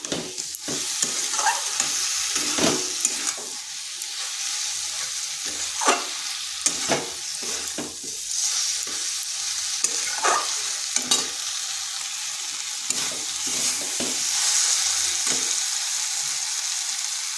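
Broad beans and potatoes are stir-fried in a pan under a constant hiss of frying, with a spatula scraping and tapping at irregular intervals.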